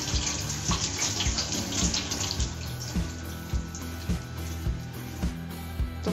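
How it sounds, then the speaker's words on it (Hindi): Fresh mint leaves are rinsed under running tap water, giving a loud, continuous splashing stream with regular lower thumps and gurgles as the leaves are moved through the flow, heard close up with no talking. "आपने इस तरीके से पानी के साथ इसको धो लेना है।"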